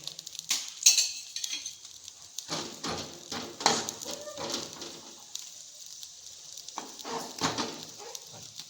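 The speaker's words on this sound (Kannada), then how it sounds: "ಈಗ ಈ ಕಡ್ಲಿಬೇಳೆ ಸ್ವಲ್ಪ ಹುರ್ಕೊಳಮ್ರಿ" Chana dal fries in hot oil, giving a close, continuous sizzle broken by scraping stirs and clinks of a spoon against the pan. A voice talks quietly underneath.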